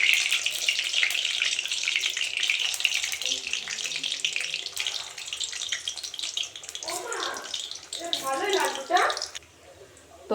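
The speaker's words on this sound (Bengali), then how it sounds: "তেল গরম হয়ে গেছে, এখন আমি মুইঠাগুলো ভাজা নেব।" Soybean muitha dumplings frying in hot oil in a kadai give a steady, close sizzle that swells into bursts of crackling near the end.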